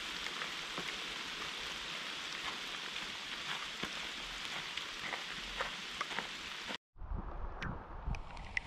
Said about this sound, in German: Zur Abwechslung fängt es mal wieder an, ein bisschen zu regnen.